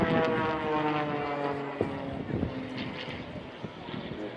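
A small propeller aircraft flies an aerobatic display over the seafront at Blackpool Airshow, its engine droning steadily at a moderate distance with rising and falling pitch as it maneuvers, under a voice speaking over a public-address system.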